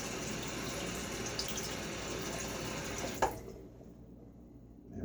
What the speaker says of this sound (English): I'm gonna rinse off